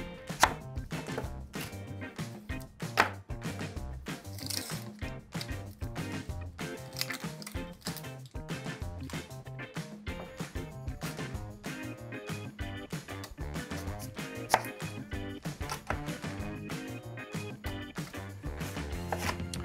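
A knife chops half an onion on a cutting board for bacon onion Brussels sprouts, in quick, steady, close thuds that run on without pause.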